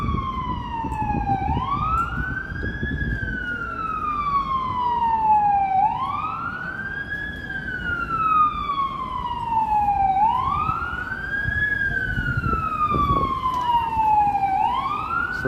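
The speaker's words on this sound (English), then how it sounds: "So those sound like fire truck sirens." Wailing fire truck sirens sweep up and down in repeated long cycles, loud and steady over a low road rumble on a Toronto street in the evening.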